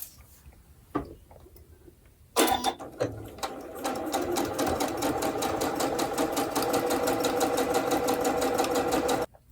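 A sewing machine runs steadily while quilt block pieces are stitched together, starting after a few soft handling clicks and then humming with a fast, even needle rhythm close by, with no talking.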